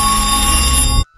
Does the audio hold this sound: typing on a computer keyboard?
no